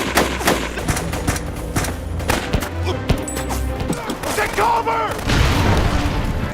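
Gunfire rings out in a film shootout as a squad with a female Russian sniper fights terrorists in the Middle East, loud close bursts and booming shots cracking repeatedly over a dense battle din.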